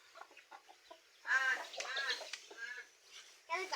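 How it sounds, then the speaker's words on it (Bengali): Village chickens cluck and squawk in short bursts close by, mixed with a person talking in between the calls. "দেখো আঙ্গো মুরগি কতগুলা আমার একটা মুরগি আমার মুরগি সব একশো"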